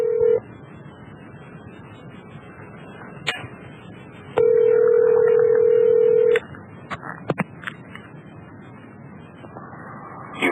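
On a radio broadcast, a telephone call is placed: touch-tone dialing beeps, clicks and a steady tone, then a long ring tone of about two seconds followed by more line clicks and tones.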